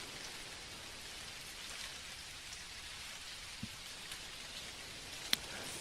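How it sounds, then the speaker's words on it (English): Rain falling in the Dinkum video game: a soft, steady hiss of rain throughout, with a couple of faint, sharp drop or tap sounds near the end. "Now it's raining."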